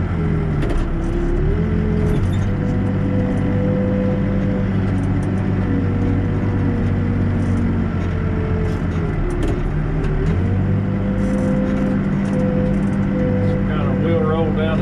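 A backhoe loader's diesel engine rumbles loud and close while backfilling dirt, revving up and settling back with shifting pitch, as someone talks over the steady engine noise.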